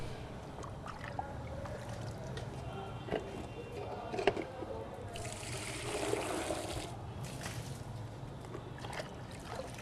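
Water poured into a Sulabh toilet pan rushes and gurgles as it drains out, a broad splashing wash swelling midway and fading after a few seconds over steady background noise.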